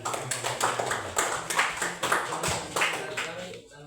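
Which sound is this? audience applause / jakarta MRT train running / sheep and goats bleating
audience applause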